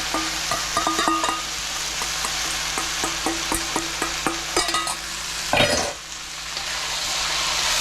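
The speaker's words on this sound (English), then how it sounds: "it's time to cook out our sauce. Spread that around the edges." Pad thai sauce sizzles in a hot pan with shrimp and tofu, a loud continuous fry with repeated spatula taps and scrapes, then a sharp hiss as more goes in near the end.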